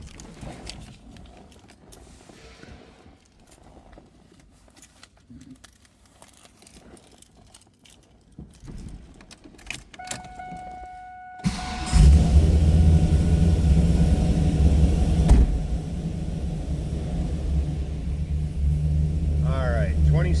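A 2002 Chevrolet Camaro SS 35th Edition convertible V8 cranks and fires up, a brief starter whine, then a loud, close rumbling idle that settles steadily, with quiet rustling and a voice talking before it starts.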